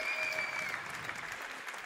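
Crowd in a high school gym applauding the starters at a girls' Class 3A regional basketball game, a steady dense roar of clapping throughout, with a faint squeak early on.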